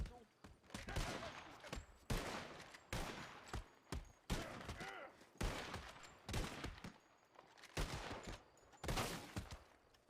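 Gunfire in the Red Dead RP game world, repeated bursts of loud shots fired in quick succession, with voices talking over the chaotic volleys throughout.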